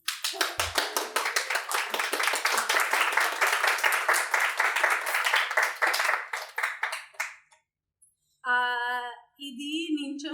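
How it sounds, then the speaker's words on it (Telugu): Audience applause at a live stand-up comedy show: dense, steady clapping from many hands for about seven seconds, then it fades to silence before brief tonal sounds follow. "Did you clap already?"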